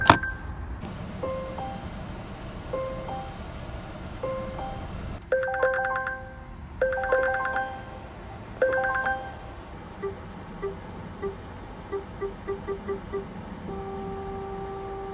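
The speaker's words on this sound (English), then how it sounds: "Take a listen to some of the weird chime sounds you hear around this car." Melodic warning chimes from a Volvo XC90 Excellence luxury SUV, a series of clear tonal dings in short repeated groups, then quicker pinging tones, heard close inside the cabin over a low steady hum with no talking.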